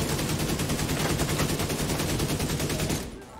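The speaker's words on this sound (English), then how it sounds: "This AK is way too much kick." Rapid automatic AK assault rifle fire in a video game, a continuous loud burst of shots that runs for about three seconds and then cuts off, leaving quieter background.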